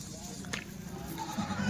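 A Kathewadi sheep bleats close by, a short wavering call that rises over steady background noise while a person talks nearby.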